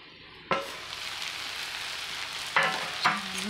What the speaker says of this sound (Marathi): भाज्या मस्त वाफत आहे।